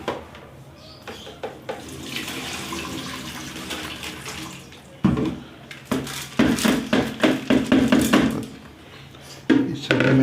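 Tap water pours from above over sprouts sitting in a kitchen strainer, a steady splashing stream broken by louder gushes and sharp clatters as the strainer shifts, with no talking.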